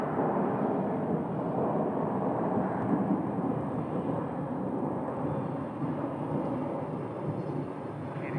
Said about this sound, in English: And there goes 1150 right there. That's the San Jose flight that we saw pushed back a few minutes ago.